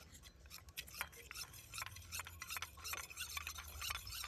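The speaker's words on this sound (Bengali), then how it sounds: "এবারে ভালো করে ফেটে নেব" A spoon quickly beats a small mix of cornflour and water in a bowl, a soft, fast, close clinking and scraping rhythm that keeps going with no talk.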